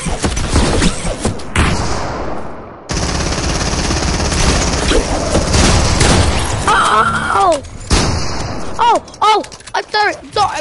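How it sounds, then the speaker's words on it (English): Rapid gunfire bursts from a PS4 shooter game ring out repeatedly, loud and dense, mixed with game effects and a voice talking and exclaiming over the action. "I didn't mean to shoot you, Eli!"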